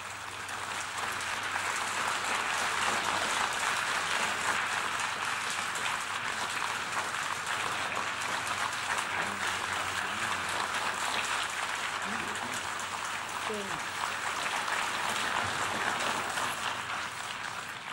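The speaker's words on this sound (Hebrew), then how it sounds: "sustained applause for the Prime Minister of Israel and the General" Sustained applause fills a large assembly hall for Israel's Prime Minister at the UN General Assembly, a dense, steady roar of many clapping hands lasting the whole stretch with no break.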